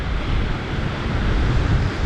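A stormy winter sea on the Crimean coast roars with crashing waves and gusting wind, a dense, loud, continuous wash with no voices.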